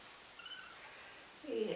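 A roughly two-week-old kitten gives a faint, thin meow near the end of a short stretch of quiet background during a bath at home.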